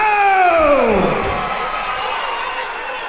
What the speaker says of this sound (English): A huge pop for Hoskins as his name was announced.